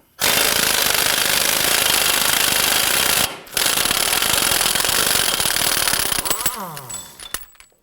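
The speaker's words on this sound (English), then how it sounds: "use a 32mm socket, loosen and remove the axle nut" An impact wrench spins off the 32mm front axle nut on a 2008-2011 Ford Focus: a loud, continuous hammering rattle of about three seconds, a brief pause, then another long burst that trails into ringing metallic clinks.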